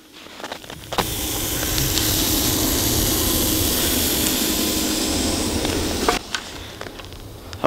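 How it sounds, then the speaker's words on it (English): Broadband hiss and sizzle rises from a hot Zastava ZPAPM70 AK-pattern rifle lying in snow, a steady close steaming sound lasting about five seconds before it drops away, with no talking. "Listen to that sizzle."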